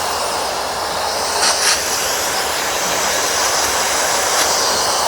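Handheld blow dryer running steadily while a Yorkie is groomed, a loud, even hiss of rushing air with no talk over it.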